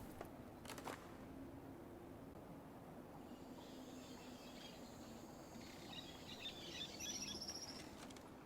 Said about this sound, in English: Birds keep chirping from all directions, seemingly unfazed by the eerie creatures inhabiting their surroundings.